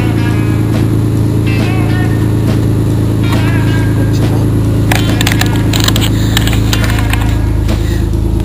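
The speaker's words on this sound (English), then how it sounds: "Cold start, we're at about 1200 RPM." A 1999 Mitsubishi 3000GT VR-4 with flash-tuned 16T turbos idles at about 1200 RPM just after a cold start, a steady loud engine drone running the whole time with some higher rattly bursts toward the end.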